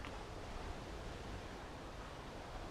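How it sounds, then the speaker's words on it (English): Lit hotel jacuzzi bubbling at a pool area in Puerto del Carmen, heard as a steady, faint hiss of churning water with no voices. "They're lit up and bubbling away."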